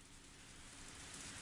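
Steady rain ambience plays continuously, a dense even hiss of falling drops with no breaks, loud and alone.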